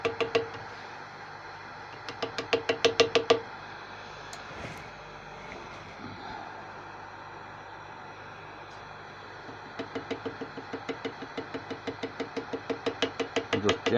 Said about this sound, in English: I'm just gently tapping it.